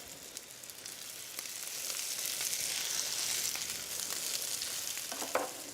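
Scallops searing in a hot pan: a steady, close sizzle with crackling pops that swells slightly midway, heard alone with no voices.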